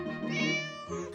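A cat lets out a single drawn-out meow close by in a house, clear and fairly soft, with no talking.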